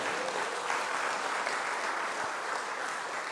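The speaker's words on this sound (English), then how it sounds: "Give yourselves a round of applause for being here" An awards-night crowd at a Bermuda sports gala claps together in an even, continuous patter, moderately loud and unbroken by speech through the brief burst.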